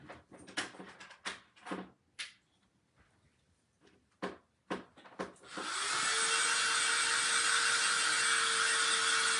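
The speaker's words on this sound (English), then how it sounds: "I'm going to dry it with a blow dryer." After several scattered knocks and handling clicks, a hair dryer switches on to dry paint, blowing with a steady, loud whirring roar for the remaining seconds.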